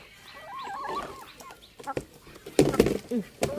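A sick yellow chicken walks over to eat feed, giving soft clucks and short calls up close, with a few louder bursts of scratching or pecking near the end.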